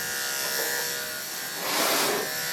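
Electric grooming clippers buzz steadily and close up while trimming the short fur on a dog's head, the motor tone dipping and swelling briefly as the blade presses through the coat, with no talking.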